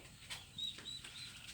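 Faint bird calls amid outdoor background noise, a few brief high chirps and soft rustles spread over a second or two, with no talk.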